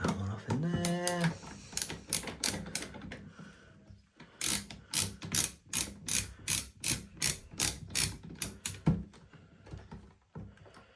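An outlet pipe is unscrewed with a ratcheting driver, giving a close series of rapid clicking ratchet bursts in a regular rhythm, with a voice talking briefly at the start.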